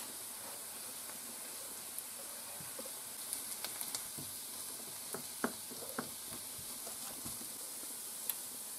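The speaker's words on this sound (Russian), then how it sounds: "Вслед за луком потом немножко тоже обжариваем морковку." Carrots frying in a pan after onions, with a steady broadband sizzle and scattered small pops and scrapes of stirring throughout, fairly quiet with no voices.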